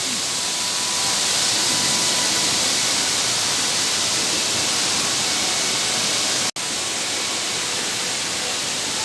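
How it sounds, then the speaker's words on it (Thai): An indoor waterfall on the second floor of a shopping mall, above a fish pond, gives a loud, steady rushing roar with no letup apart from one split-second dropout. "ตรงนี้เป็นน้ำตกบริเวณชั้นสอง"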